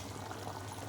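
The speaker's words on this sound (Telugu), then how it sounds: "పులుసు ఉడుకుతుంది, చూద్దాము" Fish curry (pulusu) simmers and boils in a pot, giving a soft, continuous bubbling and gurgling that stays faint and close.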